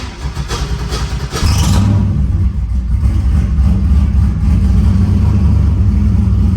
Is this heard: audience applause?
no